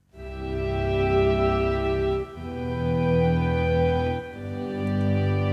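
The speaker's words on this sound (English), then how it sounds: "So first of all, I'm going to invert one of the bits and it starts to sound like this." A held harmonic tone passes through an 8-bit digital hardware effect with one bit inverted, giving a gritty, aliased buzz. Three loud sustained chords follow one another with brief dips between them, and no voice is heard.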